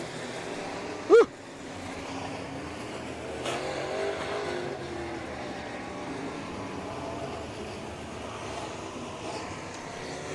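Sprint race cars racing at Heart O' Texas Speedway, a continuous distant engine roar with one sharp loud burst near the start and a swell as cars pass a few seconds later.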